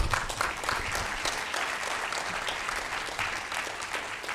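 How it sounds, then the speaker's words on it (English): Sustained applause from a conference audience honoring a professor at a Rwanda–Sweden research cooperation event, steady and dense throughout with no talk over it. "It's a round of applause again."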